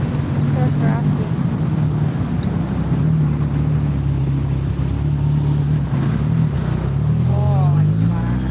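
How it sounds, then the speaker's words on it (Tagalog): Busy street traffic at rush hour with cars, a jeepney and motorcycles: continuous engine rumble with engines revving and passing nearby, while a person talks over the noise. "Traffic."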